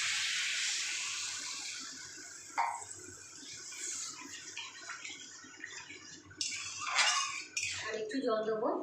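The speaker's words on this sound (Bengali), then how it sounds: "এখানে আমি জল দিয়ে দেবো" Water splashes from a tap into a cooking pot of salt-boiled potatoes, a bright hissing pour with metallic clinks and bursts of splashing toward the end, fairly faint and close with someone talking now and then.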